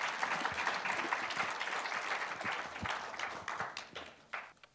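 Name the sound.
audience applause welcoming panel at academic forum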